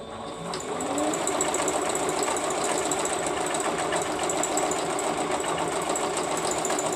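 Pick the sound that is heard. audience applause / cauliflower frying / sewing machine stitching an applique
sewing machine stitching an applique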